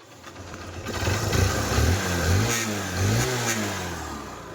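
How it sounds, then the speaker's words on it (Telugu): A 2007 Hero Xtreme motorcycle engine runs close by at low, steady speed with a smooth, even mid-pitched hum that swells and settles slightly, heard alone. "ఇప్పుడు వరకు కానీ చూడండి బండి ఇంజిన్ అనేది ఇంకా స్లో స్పీడ్ ఆడుతుంది"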